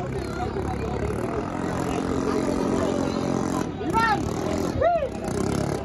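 A racing boat engine running at full throttle during a bancarera race, a loud continuous droning roar with brief rising whines near the end, voices talking over it.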